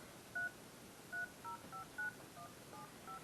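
A caller phone dials out with a quick run of about nine short keypad beeps, evenly spaced and faint over a quiet background hiss.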